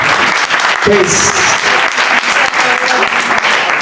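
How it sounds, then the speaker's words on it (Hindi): Loud, sustained applause from a large church congregation fills the whole stretch, with voices mixed in. "पीछे तक तालियां बजानी आपने।"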